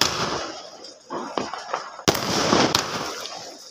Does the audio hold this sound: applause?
no